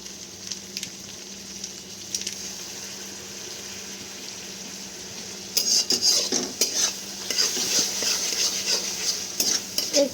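Ginger garlic paste stirred and fried in a pan for mushroom masala, a soft sizzle underneath, then louder scraping and clinking of a spoon against the pan in repeated bursts during the second half.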